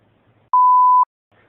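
A single clean censor bleep, a steady mid-pitched tone lasting about half a second, sounds loud and alone against near silence.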